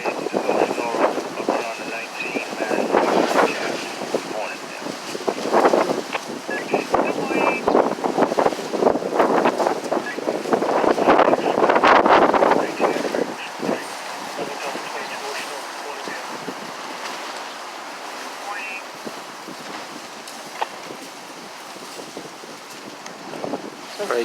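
High wind on a Boston street buffets the microphone in loud, gusty roaring bursts that swell and fade, strongest early on and easing to a steadier rush toward the end.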